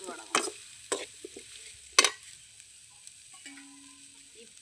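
Vadagam dropped into hot tempering oil in a pan for a Tamil thattapayaru puli kulambu, giving a few sharp crackling bursts followed by a soft, steady sizzle close by with no talking.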